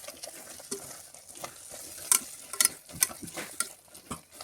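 Red chilli powder fries in a pan for prawn biryani, giving soft continuous sizzling with close, intermittent scraping and stirring strokes of a spoon.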